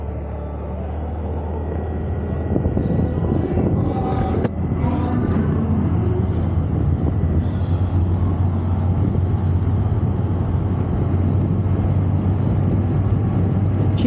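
Ride on a TVS Ntorq 125 scooter, with a low, steady engine hum and road rumble under wind noise. Faint traffic sounds pass in the background and no one talks.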